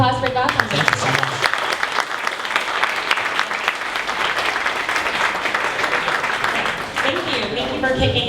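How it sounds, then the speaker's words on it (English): Audience applause at a 1 Million Cups Dallas startup pitch gathering, a dense, steady wash of clapping that fills the room, loud and sustained for the whole stretch before tapering slightly at the end. "One more round of applause for Gotham."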